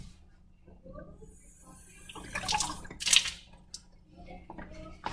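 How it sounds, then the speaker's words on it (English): Water poured into a glass test tube until it is half full during a classroom lab station, faint splashing and trickling with a couple of louder bursts and small clinks. "we're going to fill the test tube halfway with water"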